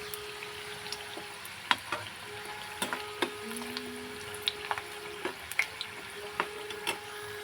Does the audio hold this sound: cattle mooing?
no